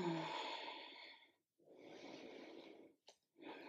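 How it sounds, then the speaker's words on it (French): Slow, calm breaths during a yoga lizard pose, with a long airy exhale, a brief pause, then another steady breath and a short sniff, heard close and soft with no speech. "on respire tranquillement"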